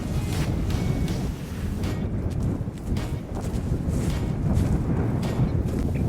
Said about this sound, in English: it's blowing probably 20 mile an hour gusts and a consistent 15